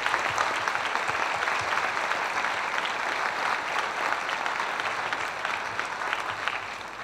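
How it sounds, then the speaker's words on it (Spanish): Audience applause fills an inauguration ceremony at the 29th congress of the Latin American Sociology Association in Chile, a dense, steady roar of many hands clapping throughout with no speech over it. "para quien pido un especial aplauso"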